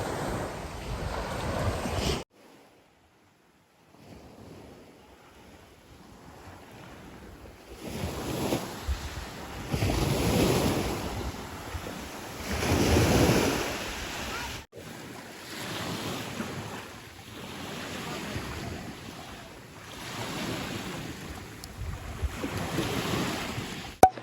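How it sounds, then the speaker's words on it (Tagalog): Ocean waves crash on a beach in Batangas, with surges that swell and fall several times. Wind buffets the microphone, and the sound cuts out briefly near the start. "Yung alon, hampas ng alon."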